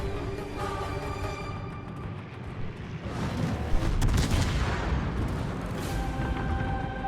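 Armor-piercing rounds fired in a combat video game, deep booming blasts and rumbling detonations over a low, continuous battle drone, loud and sustained.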